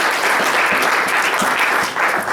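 An audience at a medical opening session gives a big round of applause, a full, even roar of clapping lasting a couple of seconds with no one speaking.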